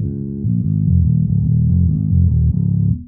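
A bass guitar recorded through a ribbon microphone, with EQ cutting all the highs and mids, plays a dark, muffled low riff of repeated notes at a steady, loud level before stopping.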